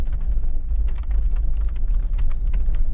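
Rain falling at a campsite on a day of thunderhead clouds, a steady patter with scattered sharper drops over a low rumbling background, fairly close and continuous throughout.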